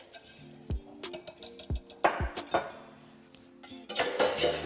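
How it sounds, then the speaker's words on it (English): Whisking a strawberry jello mixture in a bowl gives irregular metallic clinks and taps of a whisk against the dish, close and moderately loud, with a denser run of rapid scraping strokes at the end. "So what I'm gonna do now is I'm going to just whisk this up a little bit."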